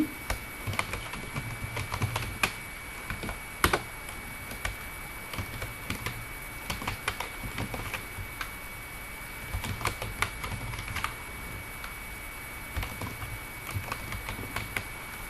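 Names being typed on a computer keyboard into a table in Microsoft Word: a steady run of light, close key clicks with irregular rhythm and occasional louder strokes, with no talking.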